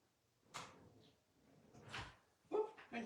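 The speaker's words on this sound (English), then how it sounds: "went to the wrong drawer" A drawer is pulled open in a home craft room: a short sliding scrape, then another slide and a couple of sharp knocks as it moves, close by and fairly quiet.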